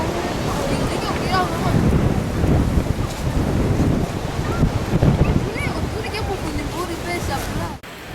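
Strong coastal wind in Namibia buffets the microphone in a loud, continuous roar that swells and gusts throughout, with surf-like rumble beneath and no clear talk.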